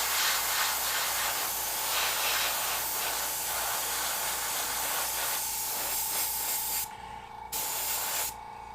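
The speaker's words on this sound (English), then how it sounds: "This is almost like doing an airbrush wash." An airbrush sprays paint onto miniatures in a steady, close, continuous hiss that runs for most of the clip, briefly cut off twice near the end as the trigger is released.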